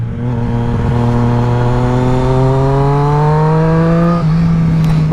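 Engine of a Triumph Street Triple S motorcycle, heard loud and close from onboard, holds a steady, strong harmonic drone that rises slowly in pitch, drops briefly and then carries on.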